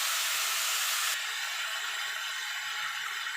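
Carrot and papaya pieces hit a hot pan for a chicken stew, giving a loud, steady sizzling hiss that drops a little after the first second and then carries on evenly, close up with no talking.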